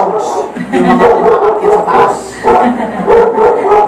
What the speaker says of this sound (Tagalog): Huwag natin pansinin yung mga umatahon na aso.